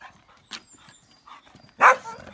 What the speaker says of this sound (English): the dogs are quite excited